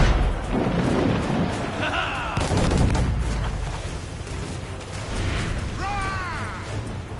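Ship cannons firing in the Assassin's Creed IV Black Flag video game, heavy booming blasts and crashing impacts in a dense battle din, with shouted voices mixed in.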